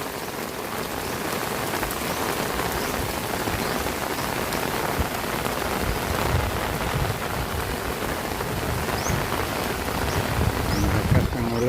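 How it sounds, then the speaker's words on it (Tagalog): Heavy rain and wind from a typhoon in the Philippines, a steady dense roar of rain pouring on surfaces and drumming throughout, close and continuous without letup. "Malakas ang ulan at saka hangin."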